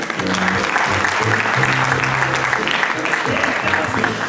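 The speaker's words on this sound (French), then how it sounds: "je pense qu'on peut l'applaudir bien fort" Audience applause at a Téléthon magic show, loud, dense and continuous for the full length, with voices and cheers mixed into the crowd noise.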